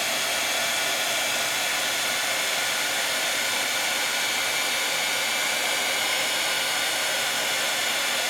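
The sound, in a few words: heat embossing tool blowing hot air on ink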